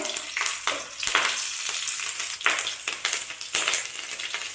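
Bay leaves and dried red chillies fry in hot oil with spices for masoor dal, a continuous loud crackling sizzle broken by sharp pops and spoon scrapes.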